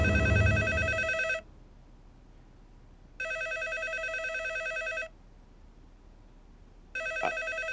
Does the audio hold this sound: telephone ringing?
yes